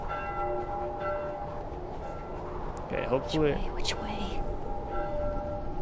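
Church bells ring in The Last of Us, distant and soft, with faint tolls under quiet game ambience and a low voice speaking partway through.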